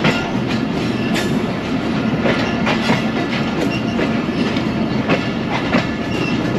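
The 12 Down Hazara Express passes on the main line of a single-track Pakistani railway, a loud, steady rumble of railcars with repeated clickety-clack wheel beats over the rails throughout.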